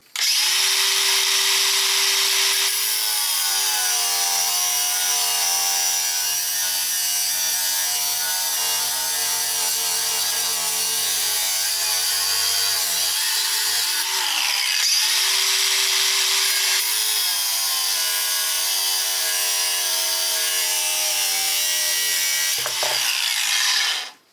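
An angle grinder cuts steadily through a steel reloading die clamped in an old vise, giving a continuous loud high whine with a slight pitch dip near the middle and a brief change near the end before it stops.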